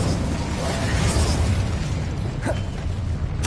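An Incendio fire spell goes off in Hogwarts Legacy, a short burst of whooshing flame and magical crackle set against steady game ambience, with a brighter flare near the end.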